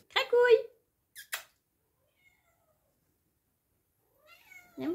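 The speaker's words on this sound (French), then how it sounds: "Ah, ça y est, le chat est réveillé." A pet cat meows twice in a quiet indoor room after waking, a short close call followed by a brief second one, with a long silence before another meow-like sound at the end.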